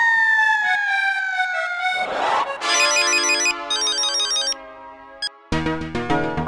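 A telephone rings during a household scene in the Indian sitcom Taarak Mehta Ka Ooltah Chashmah: electronic ringtone melodies and tonal beeps play loudly and continuously, shifting between several repeated patterns.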